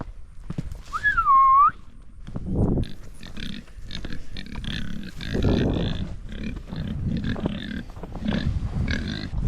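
Idaho Pasture Pigs grunt and snuffle repeatedly in close, rough bursts at feeding time, after a short rising and falling whistle at the start.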